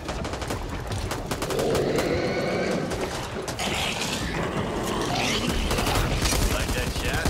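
Rapid bursts of gunfire from the co-op zombie shooter game Back 4 Blood rattle through a busy mix of game effects, loud and dense for several seconds.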